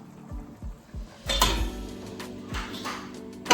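Metal clinks and clatters as a brass plate is set over a pot of sticky rice, with a few sharp ringing knocks in quick succession and a louder clang midway.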